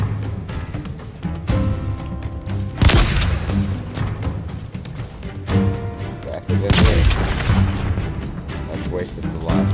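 Gunfire and explosive booms in the Halo Infinite video game campaign, dense and loud, with heavy blasts over a continuous battle din and rapid shots throughout.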